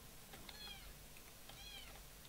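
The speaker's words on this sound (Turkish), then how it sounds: "Şöyle gavur kedi sesi geliyorsa kusura bakmayın." A cat meows twice in a quiet indoor space, each call a short rising-and-falling cry about a second apart, faint against low background hum.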